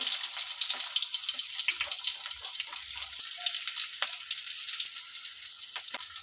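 Onion frying in hot oil with mustard seeds and cumin for a bitter gourd palya, a continuous close, bright sizzle with faint crackles and small pops.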